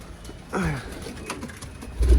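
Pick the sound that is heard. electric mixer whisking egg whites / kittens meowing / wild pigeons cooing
wild pigeons cooing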